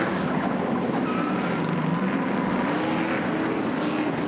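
Stadium Super Trucks race nose to tail, bumping one another, their engines a loud, continuous roar that blends into a steady wash of mechanical noise with no voices over it.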